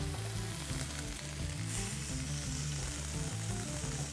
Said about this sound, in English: This pan is now ferociously hot, and what I'm going to do is add the meat in